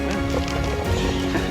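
Panama horses trotting, hooves clip-clopping in a quick steady rhythm, loud and near under continuous noise, with no talk.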